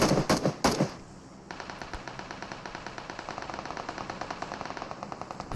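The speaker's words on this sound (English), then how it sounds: "Will shortly see a little bit more of Anurag OP shots coming in" Rapid automatic gunfire in the battle royale game PUBG Mobile during a pro scrim, a few loud close bursts followed by a long steady rattle of evenly spaced shots.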